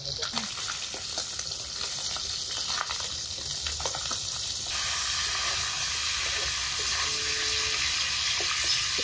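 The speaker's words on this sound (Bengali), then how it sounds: "এই যে প্রথমে একটু বেশি তেলে বাটা মাছগুলো আগে ভেজে তুলে নেবো" Loud, continuous sizzling and crackling of bata fish frying in plenty of hot oil, close up, growing a bit louder partway through.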